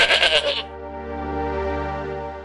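A young goat bleats loudly and close, a quavering cry that wavers and then settles into a sustained tone, heard alone without talk.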